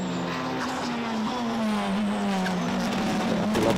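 TCR touring race cars, including an Audi, on the final lap of an endurance race at Balaton, a loud sustained engine drone with a slowly falling pitch as the cars pass close by.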